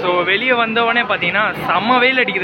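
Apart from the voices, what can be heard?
None of the usual background noises is heard.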